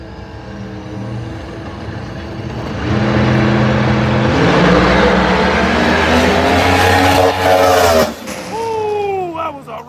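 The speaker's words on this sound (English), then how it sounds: "Ooh, that was a race. Paige Coughlin pulls it off at the stripe" Race cars roar past at a finish line in a close race on a track, their engines loud and steady and building as they pass, then fading with a whine of tires or engines.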